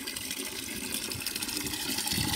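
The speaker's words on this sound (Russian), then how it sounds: "Сейчас воды наберу." Water gushing from a tap into a container on a farm, filled to give to geese, a steady close rushing and splashing flow that swells slightly as it continues, with no voices.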